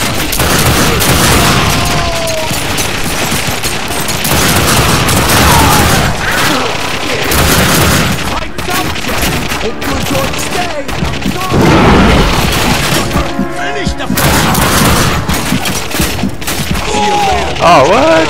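Gunfire from The Darkness II, a dense, loud barrage of rapid shots and booms running throughout, with in-game voices shouting over the shooting.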